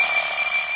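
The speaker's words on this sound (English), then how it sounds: "Darned alarm clock." An alarm clock rings in a steady, bright, continuous buzz, moderately loud and unbroken over a brief moment.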